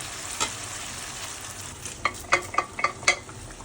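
Boiled chana dal and potato are stirred into a cooked spice masala. A low simmering sizzle runs throughout, and a quick series of sharp spoon clicks against the pan builds toward the end.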